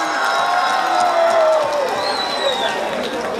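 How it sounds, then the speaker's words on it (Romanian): A crowd at an outdoor town-days festival in Baile Herculane applauding and cheering, a dense roar of clapping with whoops and whistles, while an announcer talks over it. "Haideți să-l aplaudăm tare!"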